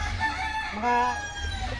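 A close, loud rooster crow rises and falls over a short stretch, with clucking chickens and low background noise from a backyard flock.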